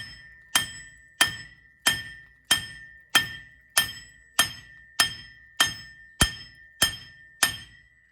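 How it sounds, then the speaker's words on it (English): A hammer strikes a metal front wheel hub on a 1999 Ford F250 Super Duty twelve times in a steady rhythm, each blow a sharp ringing clang that decays quickly, close and loud with no talking. "now you can hit them with a hammer to see if they'll come off"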